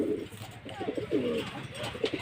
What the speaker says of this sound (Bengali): দেখুন কবুতরটা ডাকতেছে।